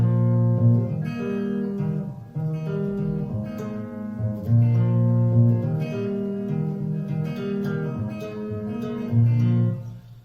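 Acoustic guitar playing the third bar of a song, strummed chords with plucked bass notes, steady and close, played alone without voices.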